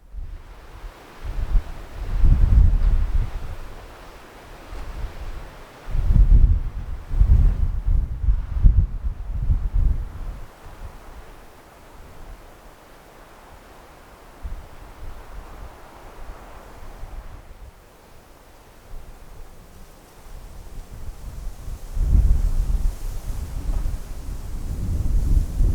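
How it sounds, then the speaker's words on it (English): Strong, cold wind gusts across open land beside a rock arch in a national park, roaring in loud buffeting surges against the microphone with quieter lulls between, no voices. "It is windy and really cold and pretty unpleasant here"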